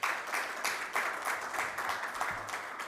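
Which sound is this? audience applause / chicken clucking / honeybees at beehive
audience applause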